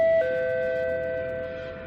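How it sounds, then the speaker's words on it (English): A doorbell rings in the horror visual novel game Kamaitachi no Yoru, one clear electronic chime tone that sustains and slowly fades, alone with no talk. "She was right. The doorbell was ringing."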